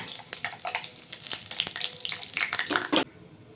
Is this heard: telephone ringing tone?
no